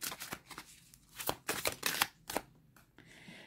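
Oracle cards shuffled for a reading, a series of crisp, close riffling bursts and soft card slaps in an irregular rhythm against a quiet room.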